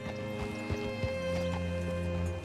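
Hooves of a horse in Red Dead Redemption, a few quick clopping steps close by that slow and stop as the animal halts.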